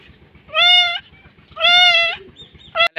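Goats tied to a cot outdoors bleat loudly and close, two long wavering cries about a second apart, then a short third bleat, with no talking.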